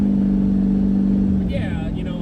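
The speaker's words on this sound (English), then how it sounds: "I'll go 30 miles an hour when I put it in third, and now I'm speeding up." A 1400hp turbocharged Corvette with a built motor and TH400 transmission accelerates in third gear on a street, its engine a loud, close, steady drone that shifts in pitch near the end.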